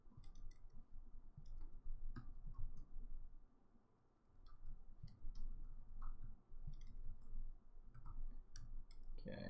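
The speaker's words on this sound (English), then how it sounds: "if I can type" Typing on a computer keyboard, irregular clusters of quiet clicks and taps running steadily throughout with a brief pause midway, close and faint, with no voice.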